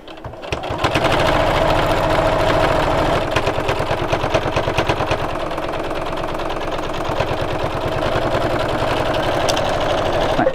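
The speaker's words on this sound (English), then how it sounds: "I'm just going to top stitch around the edge." A sewing machine top-stitches around the edge of a piece of fabric with a fast, even mechanical chatter, running steadily after a brief start and heard close and loud.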